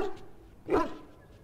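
A dog in Dragon Age: Origins gives a single short bark near the middle, fairly close, against a quiet game background.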